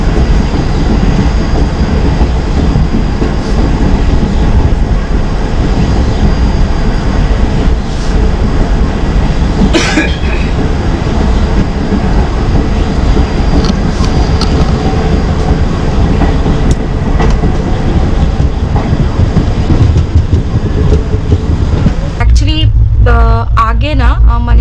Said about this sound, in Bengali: আর যোগনগরী ঋষিকেশ থেকে দুন এক্সপ্রেস ছেড়ে দিল।